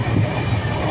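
A passenger train pulling into Renigunta junction gives a steady, loud rumbling roar with no separate beats, heard from on board.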